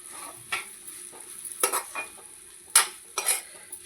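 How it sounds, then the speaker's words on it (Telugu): A spoon stirs coconut curry in a pan over a soft, constant sizzle, with a few sharper scrapes and clinks against the pan standing out now and then. "ఇట్లా మంచిగా కలుపుకోవాలి"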